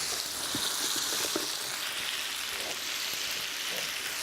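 Onions hit a hot frying pan for a poulet à la vanille and sizzle steadily, a bright continuous hiss with small crackles close by, with no talk.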